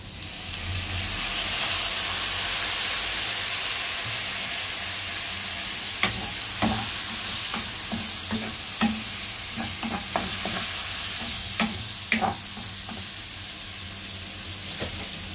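Shredded cabbage sizzles steadily in a hot pan seasoned with black pepper and soy sauce, while a spatula scrapes and stirs it in a string of quick, sharp strokes over the constant hiss.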